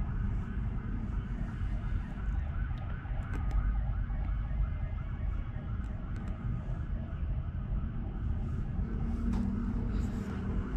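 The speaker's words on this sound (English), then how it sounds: "there's sirens going off, and even though it's late, it's still really busy out there" Distant emergency sirens wail over a constant roar of busy late-night Bangkok traffic, heard from high above the street.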